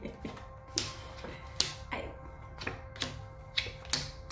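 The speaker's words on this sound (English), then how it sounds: "You hear me over here shuffling, right?" Tarot cards being shuffled by hand, a run of sharp, evenly spaced card snaps and taps repeating roughly every half second, close and fairly quiet, with no speech over them.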